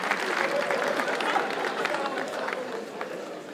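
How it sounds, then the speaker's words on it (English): A comedy show audience in Asaba claps in a dense, even burst of applause that fades slightly toward the end. "Thank you for clapping."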